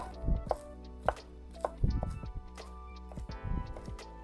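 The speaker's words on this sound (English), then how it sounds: "now you're just gonna take a sharp knife and do a rough chop" Sharp knife rough-chopping cooled pecans on a board, a series of irregular, close thuds and crisp cracks spaced unevenly, with no talking.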